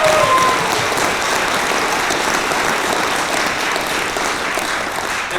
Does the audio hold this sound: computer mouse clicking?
no